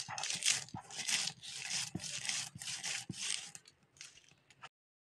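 Lightly roasted mustard seeds for mango oil are ground by hand in a series of close, rhythmic rubbing strokes, about six, with soft knocks between them before the sound stops.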